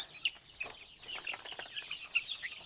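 Naked neck chickens in a batch of young birds give quick, high clucks and peeps in short irregular bursts, close by and fairly soft, with no talking.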